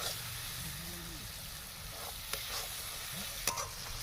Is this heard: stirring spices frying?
yes